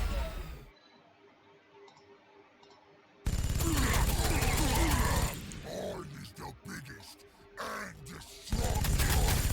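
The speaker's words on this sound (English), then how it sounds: "So I think I can probably just shoot him to death with my land speeders." Land speeders open fire in Warhammer 40,000: Sanctus Reach, loud rapid bursts of gunfire following a quiet opening, with grunts and clicking effects mixed into the barrage.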